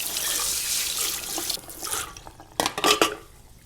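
Water pours steadily from a salon sink tap during a client's hair wash, a loud broadband rush that drops back then returns with splashing bursts near the end; no talking.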